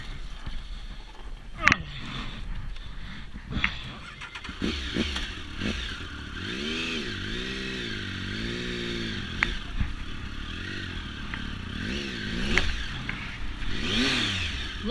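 A motorcycle engine revving and surging in rising and falling pulls as it rides out over rocks in the Turon River in New South Wales, Australia, close and steady, with a voice speaking over it.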